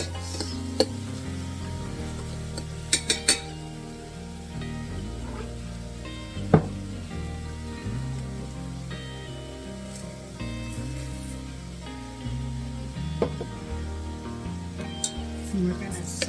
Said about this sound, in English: we're going to saute this until the edges of the rice just are starting to turn translucent